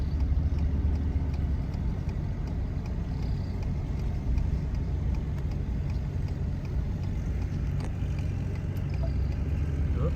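A vehicle drives in toward a farm, its engine a steady low rumble with road and cab noise held at constant loudness throughout, no talk over it.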